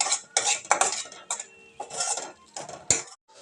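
Onion-tomato masala is roasted in oil in a pan, heard as bursts of metal spatula scraping and clinking against the pan, separated by short quiet gaps, close and fairly loud.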